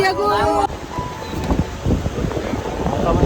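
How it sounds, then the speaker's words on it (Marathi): Strong wind buffeting the microphone at a harbour fish auction, a loud continuous rumbling roar with gusts, while a person speaks briefly at the start. "आता पण वारा जास्त आहे आज"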